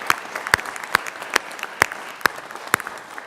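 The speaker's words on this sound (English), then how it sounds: "Yeah, you can clap now." Clapping in the Colorado Senate chamber comes as sharp, distinct claps at a steady beat of roughly two per second. They sound close and fairly sparse, as if from only a few hands, with no one talking.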